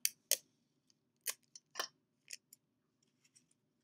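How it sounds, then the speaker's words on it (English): Clear tape tearing and pressing onto cardboard pieces of a model fighter craft, heard as a few sharp broadband rips and crackles in short bursts, near and fairly quiet, with no talking. "I'm going to use the clear tape."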